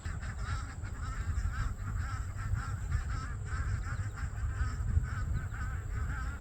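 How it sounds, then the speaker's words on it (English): A flock of ducks quacks and honks continuously outdoors beside a small patio pond garden, a busy, overlapping chorus at moderate distance with steady background noise and no talk. "Ducks are making a lot of noise out there."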